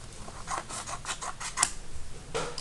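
Scissors cut strips of cardstock for a cardboard lever. The snips come close and fairly quiet as a rapid string of crisp crunches, followed by a short pause and one more cut.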